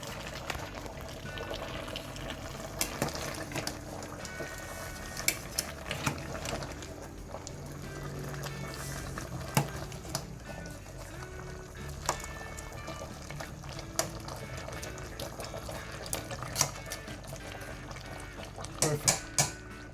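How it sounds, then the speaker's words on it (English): Beef and chicken adobo simmers in a pot after a stir, with soft steady bubbling and occasional spoon clinks against the pot, quiet and close throughout. "I'm going to give it a good stir and let it simmer for an extra 3 minutes."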